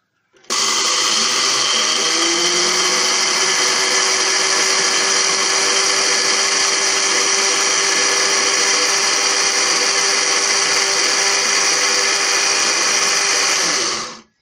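An electric grinder milling dried coriander for pakora spice, run only briefly for a coarser grind; a loud, steady, high-pitched motor whine starts abruptly, holds unbroken for about fourteen seconds, then cuts off.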